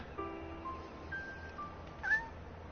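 A cat meows in a video game, a few short mewing calls spread over a quiet background, with a slightly louder rising meow near the end.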